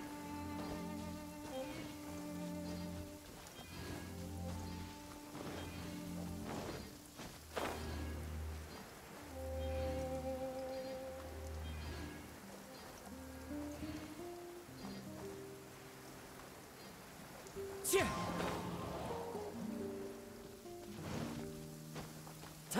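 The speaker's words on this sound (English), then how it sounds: "Taking a stroll in the middle of a downpour certainly rouses the spirit." A steady rain downpour in the video game Genshin Impact hisses continuously beneath layered game music, with no voices.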